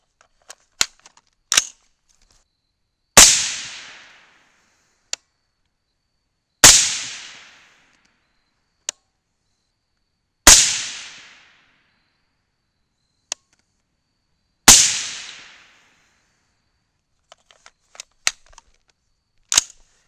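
Rifle shots from a .223 firing 70-grain Hornady GMX loads, four sharp, loud reports spaced a few seconds apart, each with a short decaying echo, mixed with scattered light clicks and handling knocks between them.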